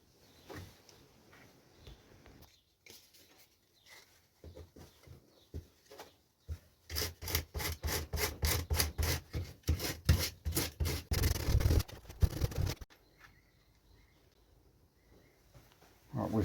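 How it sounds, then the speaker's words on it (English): Sandpaper roughing up cut edges on a homemade Friday the 13th Part 7 costume mask: after a few faint scrapes, a run of rapid rhythmic rasping strokes, each a short loud burst, then it stops. "I'm just going to rough these up with sandpaper."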